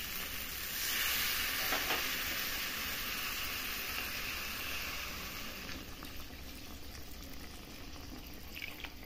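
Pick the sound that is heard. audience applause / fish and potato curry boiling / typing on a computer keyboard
fish and potato curry boiling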